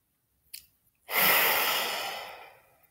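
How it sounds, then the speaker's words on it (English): A deep breath taken during a relaxation and self-massage exercise: a short sniff, then one long, loud, airy exhale that slowly fades, close to the mic with no talking. "Big inhale. Big exhale."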